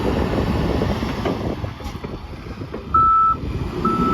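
Case 580 N 4x4 backhoe loader running through its operations outdoors, with low engine rumble and wind, then two bursts of steady reversing beeps near the end.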